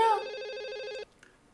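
An electronic telephone ring tone sounds once, loud and close, then cuts off, leaving near silence with a faint sound after.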